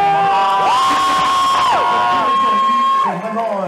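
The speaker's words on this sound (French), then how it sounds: "Ça peut s'applaudir." Audience at a French radio show cheering and whooping loudly, sustained high shouted tones over a roaring crowd, close and strong throughout.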